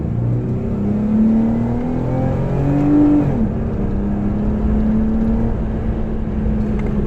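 A 2016 Jeep Wrangler with a 5-speed automatic in manual shift mode accelerates under power, its engine drone rising steadily in pitch, easing briefly and climbing again as it continues, heard from inside the cabin with no talk.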